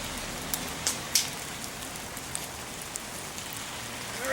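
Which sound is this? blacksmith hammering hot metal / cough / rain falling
rain falling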